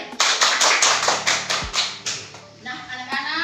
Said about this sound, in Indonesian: Kita tepuk tangan untuk Andre.